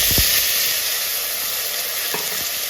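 Fennel and fenugreek seeds sizzle steadily in hot oil, a bright continuous frying hiss with a couple of faint stirring knocks, close and alone with no voices.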